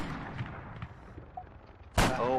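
Faint muffled gunshots early on, then a sudden loud burst of gunfire with a ringing tail near the end, from Arma 3 combat against a helicopter.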